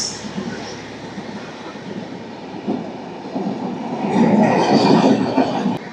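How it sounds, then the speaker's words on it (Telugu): The Ferozpur–Rameswaram Superfast Express rumbles past on the railway near the Pamban bridge route, a steady rolling roar that grows louder and heavier toward the end, heard from inside the halted Rameshwaram–Tiruchchirappalli Express. "ముందు ఏదో ట్రైన్ వస్తుంది"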